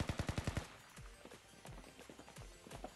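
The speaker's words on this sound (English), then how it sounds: "Was that gunfire?" Rapid burst of gunfire in the video game Blue Archive, about seven sharp close shots in quick succession, followed by scattered single shots and thuds with background game sounds.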